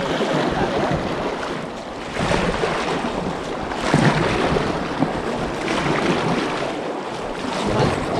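Steady paddle strokes and splashing water while funyaking on the Dart River near Queenstown, New Zealand, heard alongside continuous wind buffeting and rushing river noise, fairly loud and close, with no talking.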